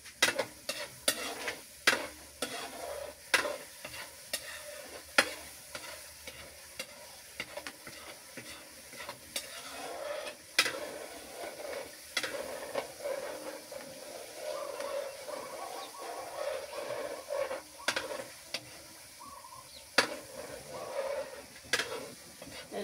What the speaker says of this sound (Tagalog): haluin para hindi masunog yung ilalim, para pantay yung pagkalo.